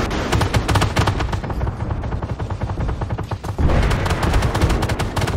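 Rapid gunfire in a tank combat video game, dense bursts of automatic shots ringing out loud and continuous, with a short lull before another heavy volley.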